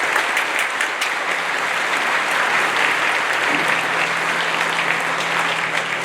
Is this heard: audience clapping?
yes